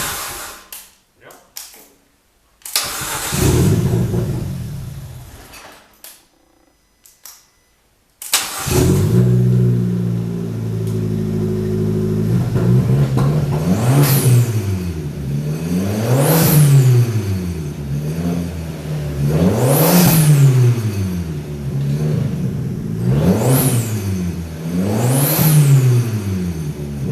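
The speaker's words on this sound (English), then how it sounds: "now I'll give it a crank" An Abarth engine, freshly swapped in, cranks over with bursts of starter whir and then catches, settling into a loud idle that rises and falls in repeated revving sweeps.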